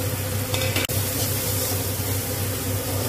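Coriander, cumin powder, salt and turmeric sizzle in hot oil for khichuri, a loud, dense, continuous frying hiss close up with one brief dip.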